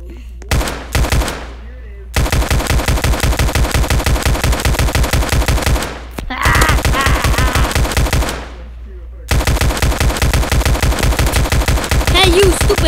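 Roblox AK-47 fire in long loud sustained automatic bursts, rapid even rhythm broken by a few brief pauses, close and dominant, with other game sounds faintly underneath.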